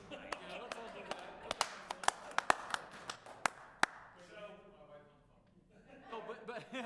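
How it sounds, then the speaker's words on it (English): Thin, scattered applause from a small group at a city council meeting, a handful of sharp claps over a few seconds, mixed with chuckles and talk before fading out. "Get a round of applause for Mike."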